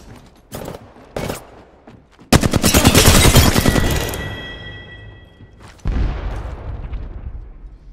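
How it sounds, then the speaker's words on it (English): Gunfire in the battle royale game Apex Legends: two sharp single shots, then a loud close burst of rapid automatic fire that trails off with ringing echoes, followed by another shot. "Getting shot at."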